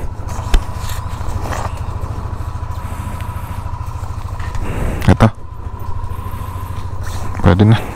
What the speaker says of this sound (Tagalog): dito nire-ready ko yung motor, pinapainit ko muna.